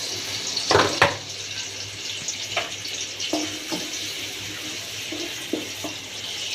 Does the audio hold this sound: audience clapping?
no